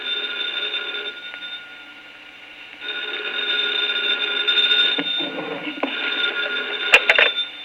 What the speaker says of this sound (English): 2 o'clock in the morning, the phone rang